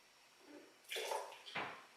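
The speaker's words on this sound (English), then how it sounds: "Just going to give it a rinse." A wine glass rinsed with water during a tasting: a short splash and swirl of water, then a second brief pour and slosh, close and fairly quiet against a low background hiss.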